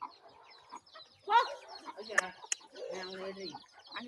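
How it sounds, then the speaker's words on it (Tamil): Chicken clucking in an outdoor farm setting where a cow is also present, several short clucks rising over soft background voices and other bird sounds, moderately near. "அங்கே ஒரு கோழி"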